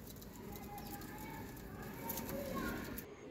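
Low, soft cooing from an old desi high-flyer pigeon repeats in a gentle warbling rhythm, faint against steady background noise, with a voice murmuring in the distance.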